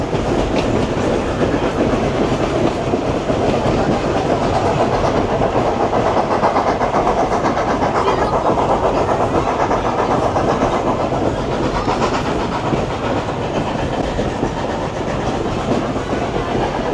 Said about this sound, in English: Wow, spectacular zigzag train.